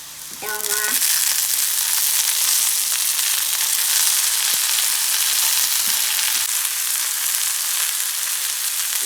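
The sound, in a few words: stirring pumpkin leaves in a frying pan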